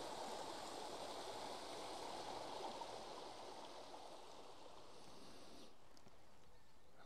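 A small beck flows in a steady, soft rush of water, heard faintly and continuously throughout with no voices.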